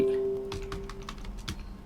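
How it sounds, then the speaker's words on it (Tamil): Quick, irregular keystrokes clatter on a computer keyboard, a burst of close, crisp taps with short pauses, heard alone. "டியூ டேட் அப்படின்னு டைப் பண்ணிடுறேன்"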